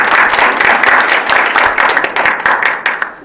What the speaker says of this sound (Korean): 다시 한번 발표해 주신 우리 안정은 대표님 박수 한번